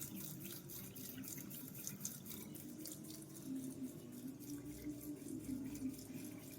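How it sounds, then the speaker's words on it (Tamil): Tap water runs out through a cleared drain pipe in a steady, faint gush with a light trickle, continuing evenly without talking. "தண்ணியை திறந்து விட்றோம் பாருங்கள்"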